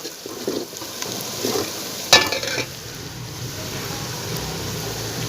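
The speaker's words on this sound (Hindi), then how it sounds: "लहसुन डाल के इसे भून लेंगे थोड़ी देर।" Garlic sizzling and stirred in a pan for restaurant-style chicken korma, a low continuous fry with soft scraping and one sharp metallic clink midway, heard up close without voices.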